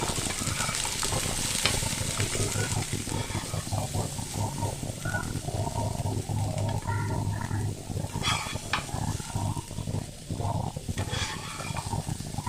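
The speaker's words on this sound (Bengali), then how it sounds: "কড়াইশুঁটি দিয়ে কিন্তু আর বেশিক্ষণ এটাকে ভাজবো না, অল্প একটুখানি ভেজে নিয়ে কিন্তু এগুলো আমি আবারও তুলে নেব" Green peas fry in a pan for a mixed vegetable dish, with a steady close sizzle and crackle and intermittent stirring scrapes and pops throughout.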